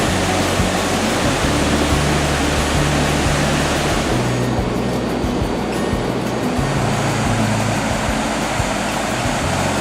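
A roaring waterfall in Laos pours with a loud, steady broadband rush that fills the whole clip, constant and close, with no voices audible over the torrent.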